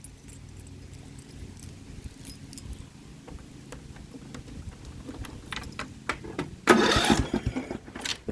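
A small engine on a Scotts 18-46 riding mower is started with an added push-button start: quiet clicks and handling noises first, then a loud burst of cranking that catches around the final seconds.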